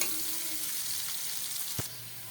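Onions sizzling in hot oil in a kadai for pabda fish curry, a soft steady frying hiss with a brief stir or clink of the pan near the end.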